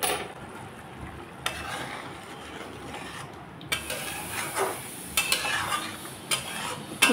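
Spoon scraping and stirring prawn curry in a pan, with soft rasping strokes and a faint sizzle underneath, occasional clinks of utensil on metal growing a little louder toward the end.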